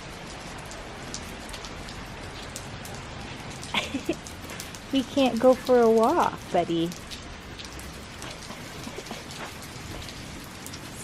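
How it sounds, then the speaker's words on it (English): Steady rain falling outside, an even patter that runs throughout while a person speaks briefly over it. "It's raining today."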